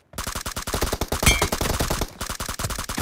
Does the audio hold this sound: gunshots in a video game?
yes